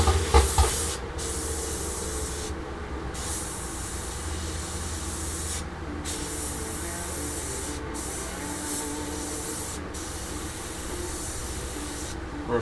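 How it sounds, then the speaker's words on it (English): Airbrush spraying paint onto a 1/48 scale Zvezda Su-57 plastic model kit, a steady close hiss that runs throughout with several brief interruptions as the trigger is released. "Except you're doing it with an airbrush."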